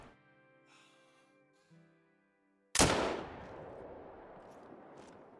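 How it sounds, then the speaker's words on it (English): Single sharp rifle shot at a buck from 250 yards in the hunting game Call of the Wild, a sudden loud crack with a long rolling echo trailing off after quiet game ambience. "We'll see if we can't put a perfect drop shot on this buck."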